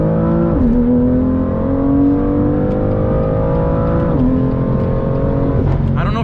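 Inside a BMW M car, the engine drones loudly as it accelerates, and the rising pitch drops sharply at each upshift, twice in a row, before climbing again under hard throttle.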